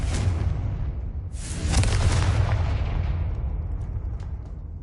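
Confringo fire spell explosions in Hogwarts Legacy, two heavy booming blasts in quick succession, the second rolling out into a long rumbling decay.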